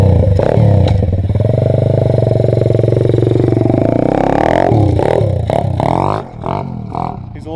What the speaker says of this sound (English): All right, Jacob, do a little flyby for us.